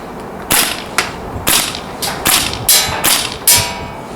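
A PP-2K (PP2000) gas blowback airsoft SMG fired outdoors at a range target: about eight sharp, loud cracks, each with a short hiss of gas, spaced roughly half a second apart.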